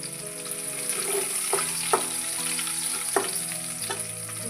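Curry leaves frying in a pan with oil, a continuous close sizzle broken by a few sharp scrapes of stirring, with no voices.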